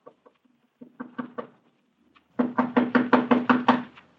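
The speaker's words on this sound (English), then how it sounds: "as I raised my hand to knock on what had been once my own living room" Knuckles knock on a living room door, first a few light, scattered taps and then a firm, rapid run of about nine knocks, close and dry in a quiet room.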